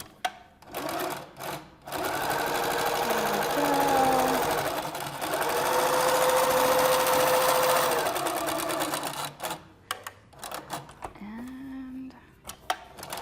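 A sewing machine stitches straight diagonal quilting lines with variegated thread in steady humming runs of several seconds each, pausing briefly between passes, with some handling clicks around the stops.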